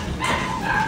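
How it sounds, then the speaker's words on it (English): A dog gives two quick, close yipping barks in about a second, loud and clear with no talk over it. "My dogs aren't happy I'm leaving."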